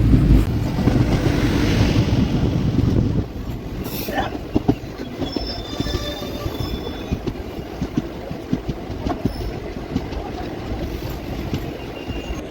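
The Tungabhadra Express runs near Shadnagar station in a loud, continuous rail roar with wheel clatter. Halfway through it drops to a steadier rolling rumble with scattered clicks and a faint high squeal.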